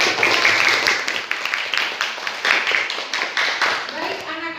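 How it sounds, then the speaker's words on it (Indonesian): A classroom of students breaks into sustained applause, many hands clapping in a dense, loud burst that continues for several seconds, with voices mixed in. "Beri tepuk tangan."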